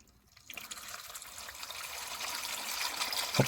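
Engine oil drains from a 2015 Subaru WRX into a pan, a steady liquid trickle and splash that starts faintly and then builds into a continuous, close pour.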